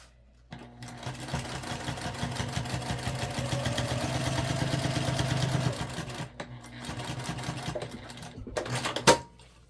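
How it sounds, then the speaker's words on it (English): Sewing machine hand-cranked slowly over a bag seam, a steady mechanical rattle and clatter running for several seconds before slowing into a few separate knocks near the end. "We're just gonna hand crank over just to be safe."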